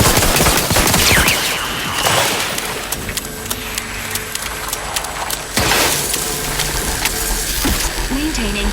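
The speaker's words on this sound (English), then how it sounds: "I didn't even realize these turrets all over the place." Automated turrets fire in The Outer Worlds 2, producing loud bursts of rapid gunfire layered with combat effects and a continuous game soundtrack.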